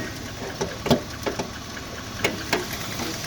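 A van's 2.5 liter 4-cylinder engine, recently started after sitting for three months, idles up close with a steady low rumble broken by a few sharp ticks and knocks.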